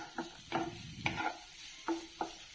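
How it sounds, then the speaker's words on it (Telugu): Finely chopped onions in a little oil in a pan, heard as a faint, quiet sizzle with a few short spatula stirs and scrapes spaced across the moment. "ప్యాన్లో కొద్దిగా ఆయిల్ వేసుకొని సన్నగా తరుక్కున్న ఉల్లిపాయ ముక్కలు వేసానండి."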